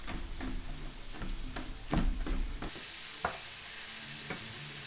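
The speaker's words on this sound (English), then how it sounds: "So we're browning up that meat, browning up our chopped vegetables, all in the skillet here." Meat and chopped vegetables brown in a skillet, hissing and crackling up close while a utensil scrapes and knocks against the pan in a few distinct strokes.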